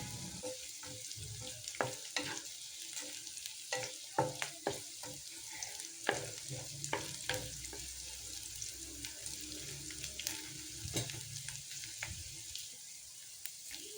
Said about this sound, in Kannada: ನೆಕ್ಸ್ಟ್ ಅದೇ ಪ್ಯಾನಿಗೆ ಸ್ವಲ್ಪ ಈರುಳ್ಳಿ ಮತ್ತು ಕಾಯಿ ಮೆಣಸನ್ನು ಹಾಕ್ಕೊಂಡು ಚೆನ್ನಾಗಿ ಫ್ರೈ ಮಾಡಿಕೊಳ್ಬೇಕು